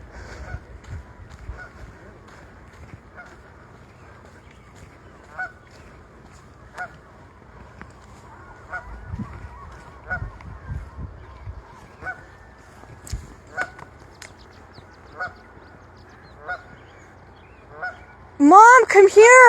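Geese honking near water, brief scattered calls spread across the stretch, fairly faint, with a louder burst of honking and shrill calls at the very end.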